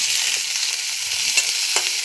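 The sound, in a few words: stirring and frying small fish in pan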